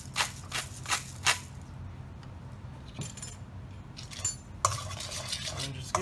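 Tempura batter of flour, corn flour, salt and pepper is whisked briskly in a bowl, with a run of quick scraping, clinking strokes close by, then a pause and more stirring, with no talking.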